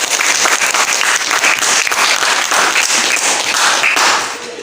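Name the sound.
applause in a classroom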